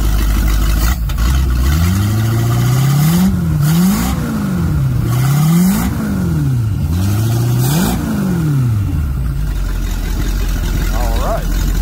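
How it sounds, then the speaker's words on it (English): A carbureted 5.7 Mercruiser V8 boat engine running on the ground before installation, idling loud and close and revved repeatedly in rising and falling sweeps, with a voice speaking over it. "I knew she was a good motor, not smoking or anything, sounding good."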